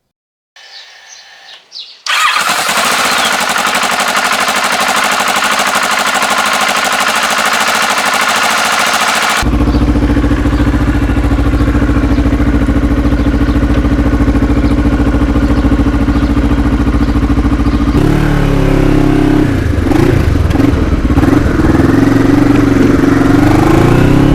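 A black Kawasaki Ninja motorcycle with many handmade carbon fiber parts starts up after a brief quiet moment, then runs loud and steady, settling into a deep, rumbling idle with a few revs later on.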